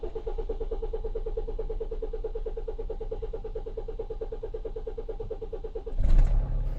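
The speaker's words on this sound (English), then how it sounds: "get the diesel flowing through it, and then try and start the vehicle afterwards" A diesel vehicle engine, just started after its fuel pump was primed, runs at a steady, evenly pulsing idle, with a louder thump near the end.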